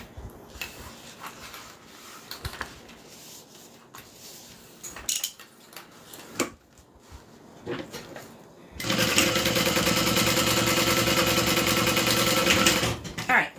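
A sewing machine top-stitching a fabric train case: clips and handling noises at first, then a loud, steady mechanical whir running close for several seconds before stopping.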